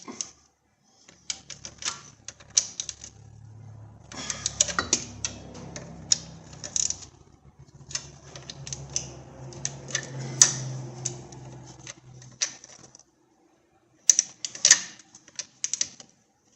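A socket wrench tightens the differential cover bolts on a 2002 Chevy S-10 ZR2, sounding as bursts of rapid ratchet clicks separated by short pauses, close and fairly quiet, with no talking.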